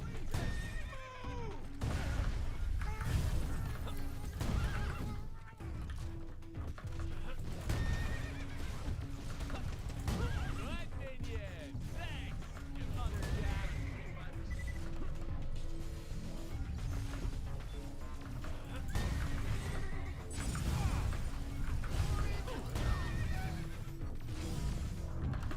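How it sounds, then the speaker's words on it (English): Repeated horse whinnies and clip-clopping hooves from a Borderlands video game play over a busy game soundscape with clanks and crashes, while a voice talks intermittently throughout. "I forgot that this thing made horse noises"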